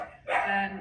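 Dogs bark in a loud, sharp burst that rises midway and holds for under a second, close by and with no talking over it.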